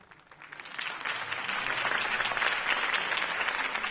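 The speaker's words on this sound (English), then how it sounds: "could have heard that applause" Steady applause from a crowd, building slightly and holding strong throughout, with no one speaking.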